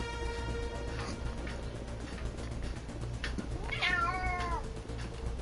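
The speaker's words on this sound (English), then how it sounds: "There's my kitty." A house cat gives a single drawn-out meow, moderately close, over a low steady hum and faint background tones.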